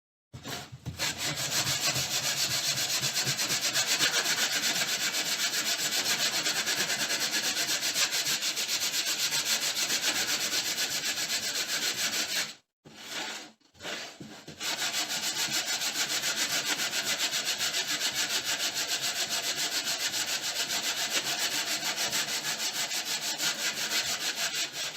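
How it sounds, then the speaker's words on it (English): Steady hand sanding of a torched wooden sign, a continuous close, gritty rasping rub that runs unbroken apart from a brief pause midway, with no talking. "Got a few streaks on here probably from the table, but I can sand those off"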